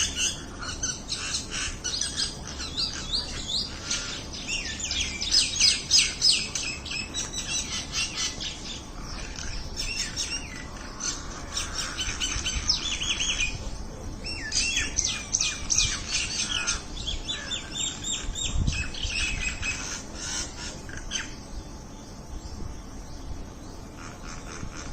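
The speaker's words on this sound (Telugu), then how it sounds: "ఏదో ఒక విషయంపై మీటింగ్ పెట్టుకున్నట్లు పక్షులు ఒక చోట చేరి మాట్లాడుకోవడం ఆశ్చర్యపరుస్తుంది." A flock of birds gathered in one spot, chattering and squawking together in a dense, continuous mix of calls and chirps, fairly close and steady throughout, with no talk.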